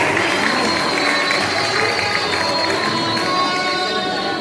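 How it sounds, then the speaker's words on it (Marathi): Audience clapping at the annual general meeting of a women's urban cooperative bank in Chikhli, a dense, steady wash of applause filling the hall for the whole stretch with murmuring crowd voices underneath. "विनंती की टाळ्या आपण ताईंसाठी जरूर वाजवाव्या"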